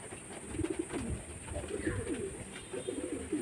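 Old-line Madras pigeons cooing close by in a home loft, with repeated soft throaty coos rolling one after another over a steady background hiss.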